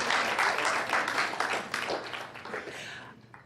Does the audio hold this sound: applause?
yes